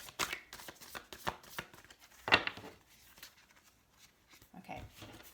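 A tarot card deck being shuffled in a quiet room, with a run of soft, quick riffling taps and one sharper snap partway through, close by and moderately faint, with no talking.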